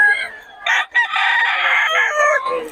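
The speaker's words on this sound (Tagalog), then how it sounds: "Ang daming manok dyan mga idol." A rooster crows loudly and close by, one long drawn-out call with a brief break, with faint clucking from other fowl around it.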